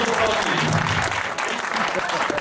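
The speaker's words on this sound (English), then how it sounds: "Can we okay, do a big round of applause?" Dense, steady applause from a large audience at a film Q&A event, sustained throughout with a few voices mixed into the clapping.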